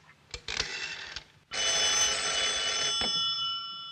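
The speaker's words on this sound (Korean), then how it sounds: "누군가에게 전화를 거는 로지." A telephone rings with a sustained, bright electronic trill after a few clicks of dialing, loud and close, continuing steadily to the end.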